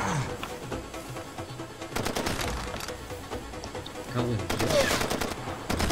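Bursts of automatic gunfire from the video game Far Cry 2 rattle in rapid strings, with louder volleys near the middle and the end, while a voice speaks briefly over the shooting.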